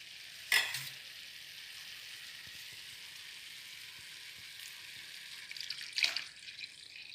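Milk is poured into carrot halwa cooking in a pan, making two short, sharp sizzling hisses several seconds apart, with quiet scraping and stirring ticks in between.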